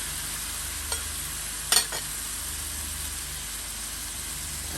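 Canned ackee folded gently into a sizzling pan, a soft steady frying hiss with a couple of brief utensil scrapes near the middle.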